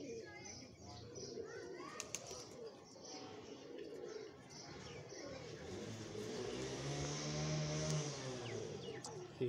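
Two captured pigeons coo softly with brief wing flutters close by, while someone talks over them and faint traffic sounds carry in the background.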